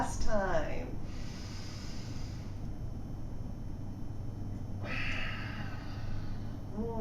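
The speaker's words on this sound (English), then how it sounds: "That feels good to get that full breath in." Deep, full breaths drawn and released slowly during a seated yoga session, close and soft, with airy inhales and longer exhales over a faint steady background.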